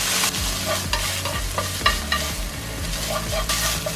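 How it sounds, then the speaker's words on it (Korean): Seaweed stems are stir-fried in a pan with plum syrup and garnish ingredients, with a continuous close sizzle under repeated scraping and tossing strokes of a spatula, with no voices. "고명 재료와 매실청을 넣고 한 번만 더 볶아주시면 되겠죠"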